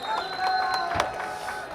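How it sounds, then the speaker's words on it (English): Crowd chanting at an MMA fight at Madinti Sporting Club, a steady arena roar with rhythmic voices and scattered claps, heard beneath a commentator speaking. "Electrifying chants from the crowd here at Madinti Sporting Club"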